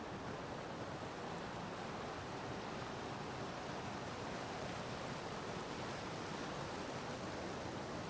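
The fast-flowing Ganga at Gangotri rushes in a constant, even roar of water, broad and steady with no pauses or voices.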